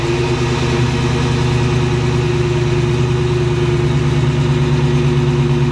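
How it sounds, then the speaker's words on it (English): A 2014 Dodge Challenger with a Hemi V8 idles steadily and close by, a loud, even low rumble with a throbbing pulse that holds constant throughout, with no voices. "it has that Hemi under the hood right there, V8 engine, and it definitely sounds really good"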